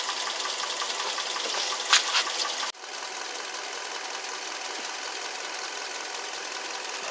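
A Hyundai Elantra engine idling with no load, a steady faint mechanical hum with a brief bump and a small shift partway through, no voices.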